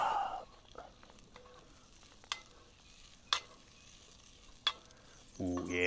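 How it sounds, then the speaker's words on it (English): Raw onions fry and caramelize in a pan at a camp cookout, giving a low steady sizzle broken by a few sharp utensil scrapes and stirring clicks, with a louder burst of frying near the end. "Let me just toss these in and maybe let these cook for like a hot minute."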